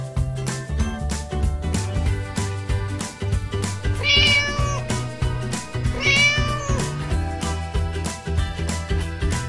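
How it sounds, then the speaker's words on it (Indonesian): A house cat meows twice, each call drawn out and clearly audible, over steady, bouncy background music. "Kucing."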